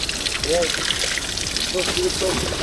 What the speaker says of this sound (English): that's real spring water